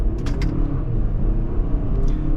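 A 2023 Toyota Highlander XSE AWD accelerates on a test run, its engine a loud, steady low rumble with road noise and a few brief higher clicks over it.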